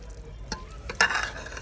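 A dish with freshly added coriander is stirred in a pan, with a few soft scraping strokes and a gentle sizzle close by.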